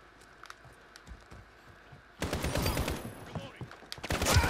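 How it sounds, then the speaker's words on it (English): AK-47 rifle fire in Call of Duty: Modern Warfare, a few quiet single shots at first, then a loud sustained automatic burst from about two seconds on, with faint clicking beneath. "the sound of AK is magnificent"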